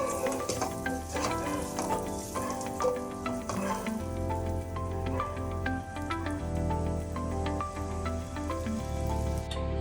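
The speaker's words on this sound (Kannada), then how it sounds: "ಮೊಟ್ಟೆನ ಸ್ವಲ್ಪ ಫ್ರೈ ಮಾಡ್ಕೊಳ್ಳೋಣ" Eggs fry in a pan on a gas stove while an egg curry is being made. A steady sizzle and crackle runs throughout, with tonal background music playing underneath.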